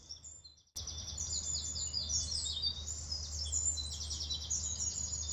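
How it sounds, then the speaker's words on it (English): A wren delivers a very fast, spiralling song of rapid high trills and twitters, clear and sustained over a low steady background hum, following a brief quiet start. "What we have singing here is the wren. Very fast, what I call spirally song."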